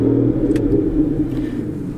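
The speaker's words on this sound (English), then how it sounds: "we are greeted by the wonderful 6-litre V12, which sounds absolutely incredible, even from inside the car" Heard from inside the cabin, the 6-litre V12 of an Aston Martin Vanquish starts up and settles into a deep, steady rumble that fills the space, with no one speaking.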